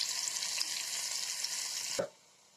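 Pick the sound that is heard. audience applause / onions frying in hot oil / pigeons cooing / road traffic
onions frying in hot oil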